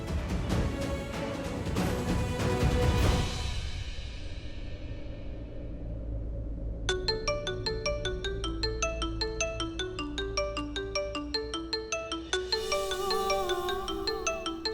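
Mobile phone ringing with an incoming call: a fading tonal chime gives way to a repeating electronic ringtone melody of quick, bright notes that continues steadily at moderate volume with no talk.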